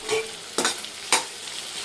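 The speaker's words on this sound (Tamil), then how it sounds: "நல்லா வதங்கட்டும் பச்சை வாசம் போகிற வரைக்கும்." Ginger, garlic and tomato sizzle softly in a hot pan while a utensil stirs and scrapes a couple of times, close and quiet.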